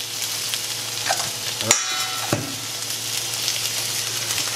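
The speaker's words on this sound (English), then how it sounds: "This is called sizzling." Steady sizzling and crackling of chicken frying in a pan, with a couple of brief clinks of a utensil against the pan.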